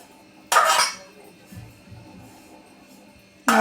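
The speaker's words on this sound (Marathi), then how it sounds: "तर मी आता हे वाटीत काढून घेते" Roasted coconut tipped from a pan into a metal bowl, heard as two sharp metallic clinks about three seconds apart with faint scraping between them, close up, with no talking.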